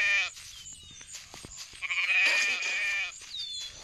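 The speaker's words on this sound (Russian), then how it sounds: "Где овцы? Я ж их слышу, но пока не вижу." Sheep bleat repeatedly in the video game The Wolf, several calls at moderate distance overlapping with other bleats and outdoor game ambience, with no talk.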